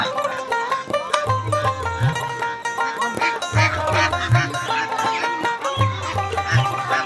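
Ducks quack in a busy village poultry market in Bangladesh, repeated nasal calls rising over a dense, loud bed of crowd noise and mixed animal sounds throughout.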